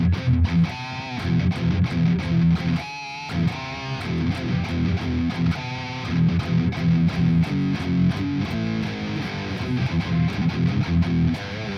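Djent guitar tones played on an 8-string guitar through the OVERLOUD TH-U amp simulator on iOS come through as a thick, heavily distorted, palm-muted chugging riff. The riff is loud and continuous, with a brief stop near the start.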